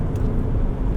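A modified Mitsubishi Colt Ralliart Version-R accelerates hard out of a corner, its engine a loud, steady, low-pitched drone heard up close throughout.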